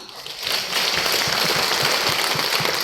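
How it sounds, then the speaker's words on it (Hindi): Applause from a conference audience in Abu Dhabi, a dense, steady patter of many hands clapping that swells after a brief softer start and holds at an even level throughout. "धर्मशिला मैम और सुरेंद्र सर के लिए एक बार जोरदार तालियां"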